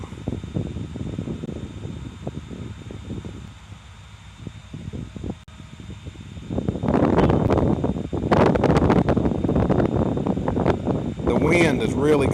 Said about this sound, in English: Wind is really gusting right now.